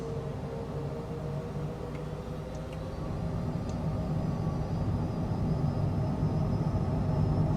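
A simulated airplane in Flight Simulator 2024 rolls for takeoff at full throttle, with a steady broad engine roar that swells slightly as it continues, unbroken and without voices.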